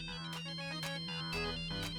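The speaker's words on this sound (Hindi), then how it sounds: "राज का फोन" Mobile phone ringing indoors in a family TV sitcom scene: a loud, continuous melodic ringtone that repeats a short tuneful phrase without pause.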